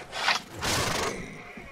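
A short horse whinny in the video game Mount & Blade rings out, breathy and bright, lasting about a second over a low rumbling background.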